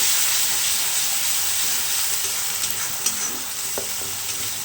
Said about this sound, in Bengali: এই পেঁয়াজের পেস্টটা এর মধ্যে দিয়ে দিলাম। এটাকে একটু ভালোভাবে নাড়াচাড়া করে নেব।